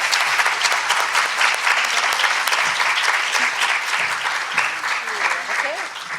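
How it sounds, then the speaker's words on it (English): An audience applauding at a university student parent center anniversary event, dense sustained clapping that fades slightly toward the end, with voices mixed in. "So should we give them a round of applause?"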